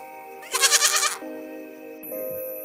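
Stray goats in the deserted ruins of Kuldhara, Rajasthan, give a loud, wavering bleat at close range, a single quavering cry lasting about half a second, with a steady background hum around it.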